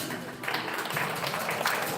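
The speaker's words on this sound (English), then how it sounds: "They deserve a big round of applause for their work." Audience applause for student poster presenters at an international pharmacy conference, a steady broad wash of clapping filling the hall throughout.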